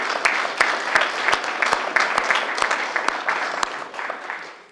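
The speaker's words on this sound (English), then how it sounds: "Council, this is where you applaud them." Council members at an April 2014 meeting applaud together, with a dense bed of clapping and several sharper individual claps standing out in an even rhythm, fading slightly at the close.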